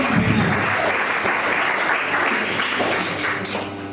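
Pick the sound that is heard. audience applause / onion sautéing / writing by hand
audience applause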